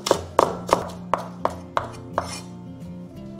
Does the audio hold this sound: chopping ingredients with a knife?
yes